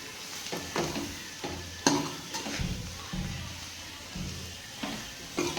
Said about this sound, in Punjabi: ਹੁਣ ਆਪਾਂ ਚੰਗੀ ਤਰ੍ਹਾਂ ਰਲਾ ਲਾਂਗੇ